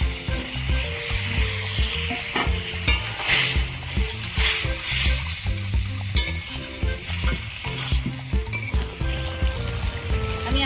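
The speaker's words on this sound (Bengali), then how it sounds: "এবার আমি মাছগুলো দিয়ে দেবো" Fish frying in a pan for a spicy Bengali gang mourala-style curry, with a loud, steady sizzle and crackle mixed with stirring and scraping of utensils, close and continuous throughout.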